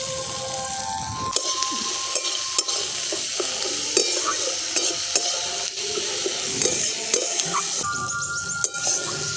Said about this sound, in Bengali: এই দেখুন টমেটো আর কাঁচা লঙ্কাটা দেওয়ার পর আমি কিছুক্ষণ নেড়ে নিয়েছি